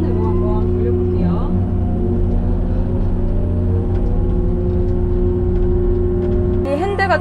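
A Hyundai Robex 140W wheeled excavator driving in second gear, with a loud steady diesel engine rumble and drone that holds throughout and shifts near the end.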